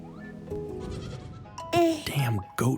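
A goat bleats in the video game Goodnight Universe, several wavering cries arriving in bursts over soft game ambience, with a voice speaking beneath the earlier part.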